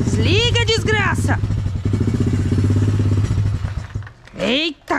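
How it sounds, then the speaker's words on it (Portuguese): A small mini motorcycle engine idles with a steady low putter beneath excited talking and shouting, the engine drone holding close and loud before dropping away near the end. "Eita, que eu não consigo nem desligar a moto."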